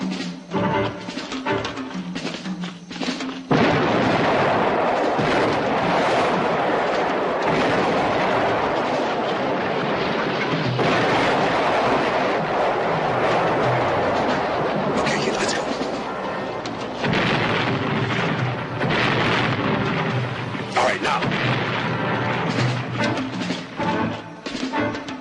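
Heavy howitzer artillery in a war film booms and rumbles as a dense, roaring barrage, loud and sustained after an opening stretch, with voices audible beneath the din.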